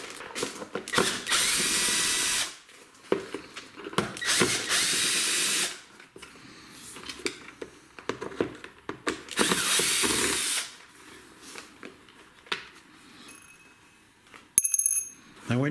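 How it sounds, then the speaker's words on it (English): Power screwdriver driving out screws from a Henry Numatic vacuum cleaner during a motor replacement, several close, loud bursts of whirring separated by pauses, with faint clicks and handling noises between them. "Now we've got another 1, 2, 3 screws to remove here."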